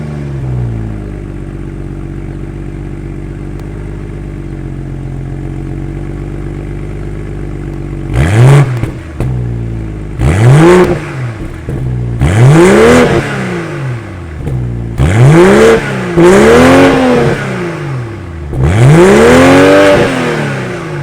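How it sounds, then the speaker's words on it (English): A BMW X3 M40i's 3-liter twin-scroll turbo B58 inline-six starts after a quiet stretch, then fires off a series of sharp, loud, close revs, about six rising and falling blips with brief pauses between them, without talk. "that was of course the sound of the 3-liter twin-scroll turbo B58 inline-6 sold by BMW for the X3 M40i"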